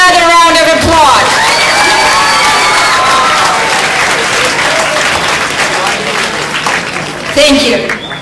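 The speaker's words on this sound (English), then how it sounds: "Give them another round of applause." Audience applause at a graduation ceremony: dense, loud clapping with a few cheers, while a voice talks over the start and tonal sounds drift above, then the clapping fades slightly near the end.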